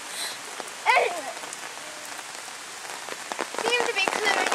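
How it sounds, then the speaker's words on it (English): Heavy rain pours steadily during a thunderstorm, a constant wash of drops on surfaces with a few brief voice-like sounds in the background. "Raining hard."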